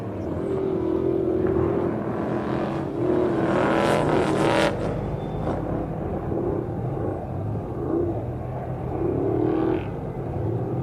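A 6100-class spec off-road race truck drives the course during qualifying at the Baja Nevada desert race, its engine droning steadily with rising revs and a brief surge midway, heard alone without voices.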